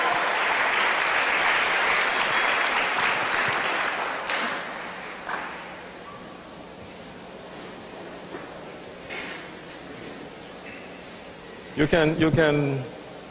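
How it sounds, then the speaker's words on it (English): A school debate audience claps for the debaters in a loud burst of applause that lasts about four seconds, then fades into quieter clapping and room murmur, with a voice speaking briefly near the end. "One more round of applause for your debaters"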